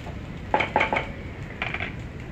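Wheat sooji upma stirred with salt in a pan: a spoon scrapes and clinks against the metal in two short bursts of three or four strokes each, close by, with quiet pauses between.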